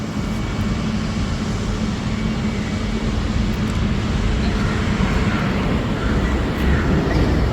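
Steady, continuous engine rumble and road noise from inside a Grab taxi car moving through Singapore traffic, a constant low drone with no voices.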